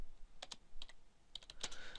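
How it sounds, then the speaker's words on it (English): Keyboard typing into Notepad on a Windows Longhorn beta build: a few short bursts of crisp, close key clicks separated by brief pauses, no voices. "typing on Windows XP's"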